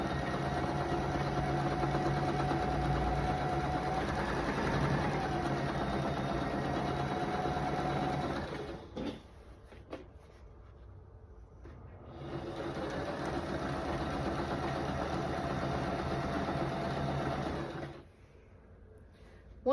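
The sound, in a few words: sewing machine sewing a quarter inch seam on a quilt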